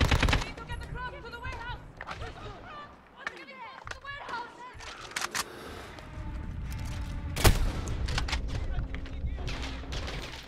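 Rapid gunfire from Call of Duty Modern Warfare gameplay, with machine-gun bursts and sharp single shots cracking throughout, one especially loud blast near the end, mixed with game voices and background combat noise.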